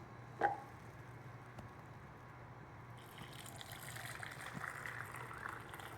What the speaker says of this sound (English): Now we pass this through a fine mesh strainer into our Ninja CREAMi 1 pint container.